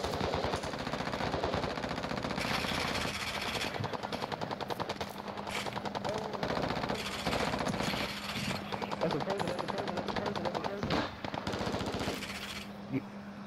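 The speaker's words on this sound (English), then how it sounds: "Are they shooting at you, Reaper?" Rapid automatic gunfire from Call of Duty DMZ rattles in long bursts with scattered single shots, loud and dense, while players talk over the shooting.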